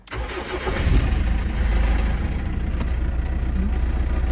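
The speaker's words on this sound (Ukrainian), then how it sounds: "пробуємо запускати на холодну наступного ранку" A cold BMW M47 diesel engine with a Bosch VP44 injection pump cranks briefly, catches, and settles into a loud, rough, rattling idle that keeps running steadily, close by.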